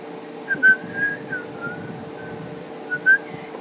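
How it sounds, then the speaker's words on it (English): A person whistles a few short, faint notes in scattered bursts over a quiet background hum. "My whistling sucks."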